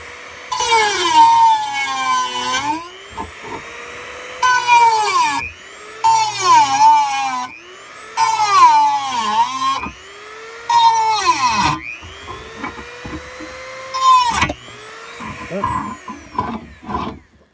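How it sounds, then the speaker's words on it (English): A Dremel rotary tool with a cutting wheel whines loudly in repeated bursts with long pitch glides, rising and falling between short pauses as the wheel bites and the speed drops and recovers. "My Dremel wheel broke"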